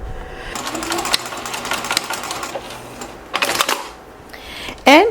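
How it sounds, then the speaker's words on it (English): Sewing machine stitching a fabric binding seam, running in a fast steady whir in two short bursts with a pause between, close and loud. "I take it to my sewing machine and I'm going to stitch half an inch seam allowance."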